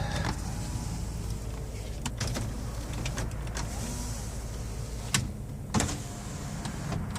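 Power windows on a 2014 Toyota Sienna wheelchair van run with a steady electric motor whir, with a couple of short clunks as the glass stops, heard close up with no talk.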